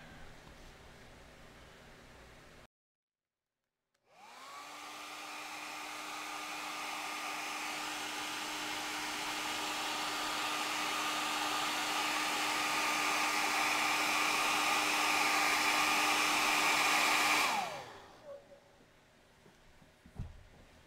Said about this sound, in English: let me get a hairdryer on this and I'll come back when I think it's warm enough